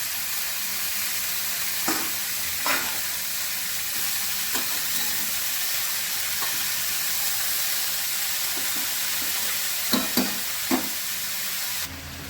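Cabbage, green chillies and fish heads fry in hot oil with a loud, constant sizzle, and a spatula scrapes and knocks the pan at irregular moments as the mix is stirred.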